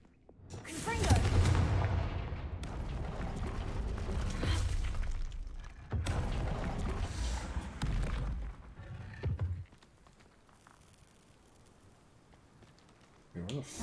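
Blasting fire spells in the Hogwarts Legacy video game go off as loud, crackling explosions with shattering debris, a sustained roar for several seconds, then a second burst before fading into quiet ambience.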